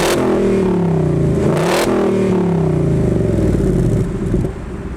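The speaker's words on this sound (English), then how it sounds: "let's go back to the exhaust so we can get some clips of the exhaust" 2020 Ford Mustang GT Premium exhaust revving up close, a loud deep rumble climbing and falling through a couple of revs before settling back to a lower idle-like drone.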